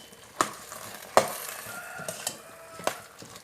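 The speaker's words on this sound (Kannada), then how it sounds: "ಈಗ ಚೆನ್ನಾಗಿ ಮಿಕ್ಸ್ ಮಾಡುವ." A spoon stirs chickpea and ivy gourd masala in a pan, striking it with a few sharp, irregular clacks over a soft, steady sizzle.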